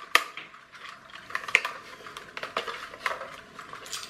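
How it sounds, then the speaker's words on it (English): Clockwork toy car with a slipping spring being wound, giving rapid dry ratchet-like clicks and ticks at close range, irregular bursts spread through the whole stretch with no voices. "If I try and wind it back, it's not winding up the spring, it's just clicking."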